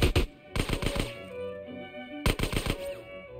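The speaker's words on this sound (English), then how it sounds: "See if I can shoot this guy's head." Rapid, punchy gunshots from GTA San Andreas come in two close bursts of several shots each. A sustained musical tone plays underneath.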